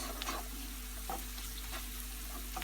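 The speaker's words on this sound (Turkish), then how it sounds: "İçerisine bir tatlı kaşığı salça ilave edip şöyle bir karıştıralım." Fried onions with a dessert spoon of pepper or tomato paste stirred in a pan: soft, quiet scraping strokes every half second or so over a faint steady sizzle.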